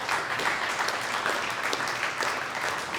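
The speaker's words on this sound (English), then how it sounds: "So offer a round of applause from those guys." Round of applause for top sales staff at a dealership group's quarterly meeting, dense and sustained clapping from a sizable audience, steady and fairly loud throughout with no talk.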